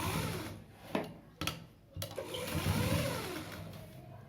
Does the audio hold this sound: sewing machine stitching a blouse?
yes